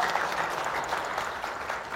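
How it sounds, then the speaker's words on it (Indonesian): Seated audience at an Indonesian talk show on military and administrative court integrity breaking into lively applause, an even, steady wash of clapping with no break. "boleh tepuk tangan yang meriah?"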